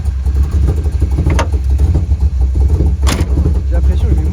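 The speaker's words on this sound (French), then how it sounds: "tu sens le moteur qui fait trembler les sièges carrément" A big engine in an old American car rumbles inside the cabin, a heavy, steady low throb that fills the whole stretch, with people talking over it.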